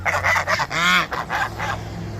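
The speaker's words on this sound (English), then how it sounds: "These are Chinese geese. And then I have pilgrim geese." Chinese and pilgrim geese honk loudly at close range, several harsh calls in quick succession with one long drawn honk in the middle, followed by softer overlapping calls.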